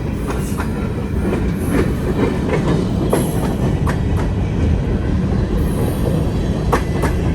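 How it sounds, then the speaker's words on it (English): Freight grain train of covered hopper cars rolling past close by, a steady loud rumble of wheels on rail with scattered clicks and brief metallic squeals throughout. "Got a grain train here,"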